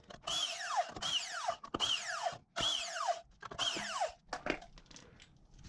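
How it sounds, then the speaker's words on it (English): A 3/4 inch socket backs lug nuts off a car wheel, giving five quick ratcheting bursts in a steady rhythm, close and clear, followed by a couple of short clicks. "Take our 3/4 inch, remove the lug nuts."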